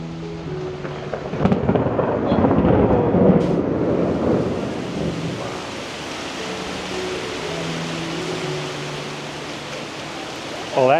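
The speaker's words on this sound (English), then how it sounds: "that turned into a really heavy downpour" Heavy downpour with rumbling thunder in Wuhan, China: a loud, dense roar of rain builds early, with a deep thunder rumble around the start, then eases to a steady, continuous wash.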